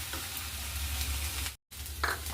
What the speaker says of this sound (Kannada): ಇದಕ್ಕೆ ನಾನು ಹಸಿ ಅಲಸಂದಿ ಕಾಳು ಬೇಯಿಸಿಟ್ಟಿದ್ನಲ್ಲ ಅದನ್ನ ಹಾಕ್ಕೊತಾ ಇದ್ದೀನಿ